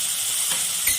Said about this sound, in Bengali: এবার আমি এটাকে অল্প ভেজে নেব।